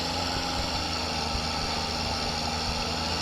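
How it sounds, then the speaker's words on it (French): A tractor engine idles steadily in the Farming Simulator 15 game, a constant droning rumble with a dense broadband hiss and no breaks, heard alone without talk. "C'est du bon tracteur ça."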